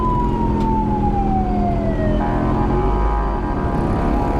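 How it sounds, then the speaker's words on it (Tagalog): An ambulance siren wails loud and near over heavy road and motorcycle engine noise, its tone sliding downward as it passes, with no voices. "May ambulansya pa."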